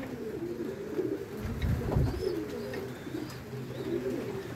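Racing pigeons coo at the loft as they come in from a training race, a steady low burbling chorus near at hand with a few faint higher chirps over outdoor background.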